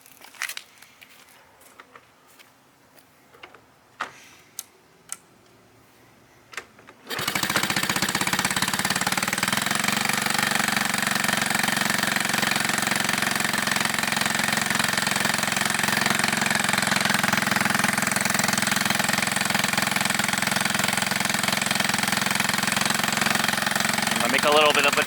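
Vintage Honda Z50 mini trail bike being kicked over: several sharp clicks and thumps, then the small engine catches about seven seconds in and settles into a steady, loud, close idle.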